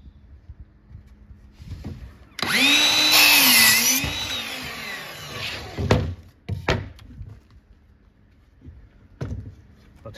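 A power saw cuts a wood board to size in a workshop: one loud, whining cut of about a second and a half that spins down, followed by scattered clunks and knocks as the pieces are handled.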